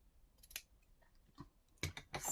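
Scissors cut while a Père Noël figure is being repaired. Faint snips come first, then a louder burst of close crunchy snipping near the end, in a quiet room.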